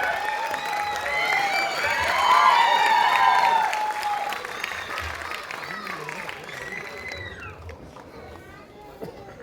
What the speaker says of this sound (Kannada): ಪ್ರೀತಿಯ ಚಪ್ಪಾಳೆಗಳ ಮೂಲಕ ಸ್ವಾಗತಿಸೋಣ ಪ್ಲೀಸ್